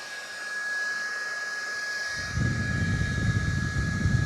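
A small clip-on battery fan runs with a steady whirring hum and thin high tone, then its airflow grows louder and rougher as the wind hits the microphone more directly.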